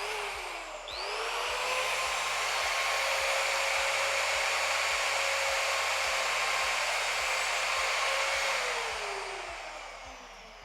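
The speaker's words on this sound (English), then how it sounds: "it's very quick just to cut through the tungsten" A tungsten grinder cutting through a tungsten electrode: a loud, steady high motor whine that spins up quickly, holds for several seconds, then winds down, with no talking.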